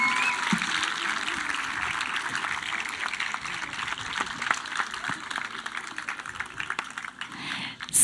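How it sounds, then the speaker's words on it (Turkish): Applause for children and teachers at a May 19 Atatürk Commemoration, Youth and Sports Day ceremony in Turkey: a steady, fairly distant wash of clapping that continues without pause for about eight seconds, with no voices over it. "en büyük alkış çocuklarımız ve öğretmenlerimize,"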